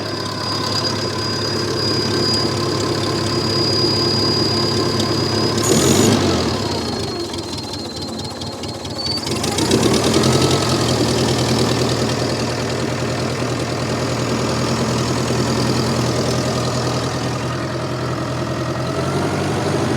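An old MF711 skid loader, started for the first time in decades, idles with a steady, knocking mid-low engine rumble, close and loud, with two brief surges in revs along the way.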